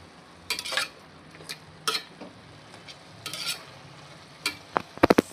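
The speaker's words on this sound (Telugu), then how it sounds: "5 నిమిషాల తర్వాత కలుపుతున్నాను." A spoon scrapes through chicken curry with gongura in a pan, several separate stirring strokes over a soft low sizzle, ending with a few sharp metallic knocks against the pan.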